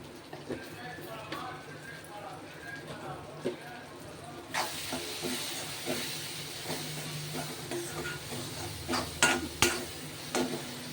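A spoon stirs chilli powder and coriander powder through a hot pan with a soft hiss and scattered scraping knocks, alongside faint talking.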